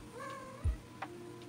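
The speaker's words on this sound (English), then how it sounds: "Cat bothering me." A house cat makes a single short meow, fairly quiet and close by in an otherwise calm room.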